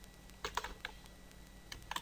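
Typing on a computer keyboard to enter an institution's name in a business card design, with a few scattered close key clicks in short bursts and pauses, no voices.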